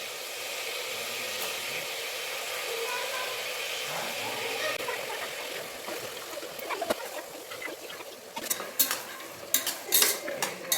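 A spoon scrapes and stirs beans, green peas and potato in a cooking pan, a soft steady rustle that ends in a few sharp metallic clinks against the pan.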